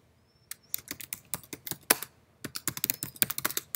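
Rapid, uneven keystrokes on a computer keyboard while setting up a filter criteria name in a software form, close-up and crisp, with a short pause midway before typing resumes.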